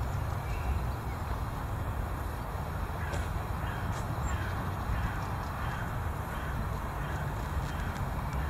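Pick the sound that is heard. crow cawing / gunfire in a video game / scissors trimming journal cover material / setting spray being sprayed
crow cawing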